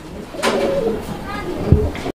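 A male pigeon, one of a pair kept for sale, coos in a few rounded, throaty calls close by, with a brief lower thump near the end.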